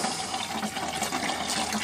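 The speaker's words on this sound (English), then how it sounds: "And it's filling up this bucket." Water running steadily into a bucket that powers an automatic chicken coop door opener, a constant close hiss and splash of filling liquid with no talking.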